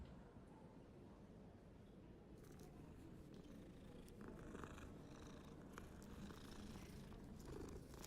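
A cat in the video game Hogwarts Legacy purrs in a low, steady rumble, quiet and close, continuing throughout with faint clicks and rustles alongside and no speech.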